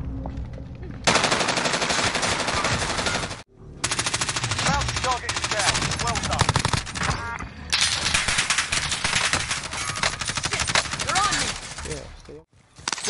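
Dense, loud video game gunfire with sustained rattling machine gun bursts and rapid single shots, broken by short pauses, with faint voices mixed in.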